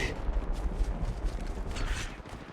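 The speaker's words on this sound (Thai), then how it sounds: "ฉันกำลังยิงต่อสู้อยู่" Dense, continuous gunfire in the mobile shooter Apex Legends Mobile, a rumbling barrage of shots and explosions with no clear gaps, fairly loud throughout.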